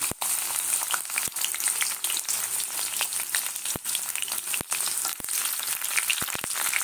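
Black cumin and garlic fry in very hot oil in a wok, giving a loud, steady close-up sizzle throughout with occasional sharp clicks of stirring.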